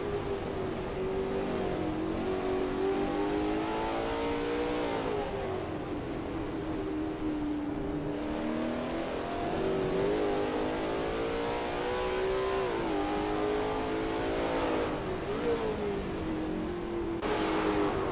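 A Lola T70 MkII Spyder race car in a racing game at Brands Hatch GP, its engine droning steadily with rising and falling revs through gear changes, continuous and up close without a break.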